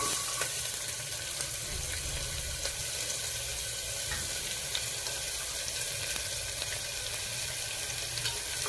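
Onion, cinnamon stick, green cardamom and green chili frying in a pan, a steady, close, hissing sizzle with faint occasional clicks, no voices.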